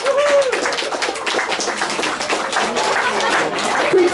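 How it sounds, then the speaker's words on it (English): Wedding ceremony guests break into a loud, dense round of applause that holds steady throughout, with a brief cheer or whistle rising over the clapping. "Another round of applause, ladies and gentlemen."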